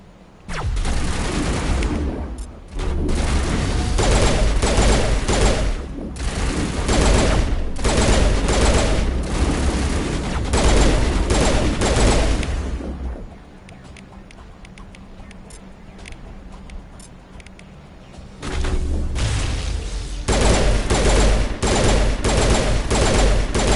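Rapid rifle gunfire from the video game Mass Effect, loud bursts firing repeatedly with short pauses, dropping to a quieter lull midway before the shooting resumes.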